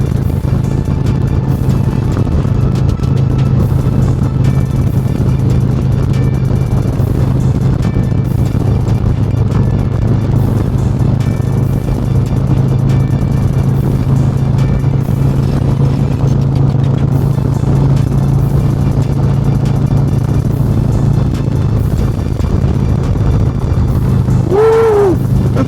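Harley-Davidson Road Glide motorcycle cruising at highway speed, a steady low engine hum with continuous wind and road rush throughout, loud and close, with a brief rising whine near the end.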